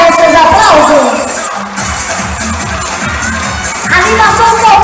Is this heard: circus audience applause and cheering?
yes